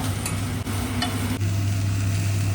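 Vegetables roast crisp in a pan with a continuous hissing sizzle, a short scrape or two partway through and a steady low hum beneath.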